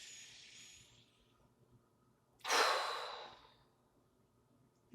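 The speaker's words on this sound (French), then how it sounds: "Et soufflez par la bouche." A single long exhale out through the mouth during a yoga breathing exercise, a soft breathy rush that rises then fades over a couple of seconds, close and alone.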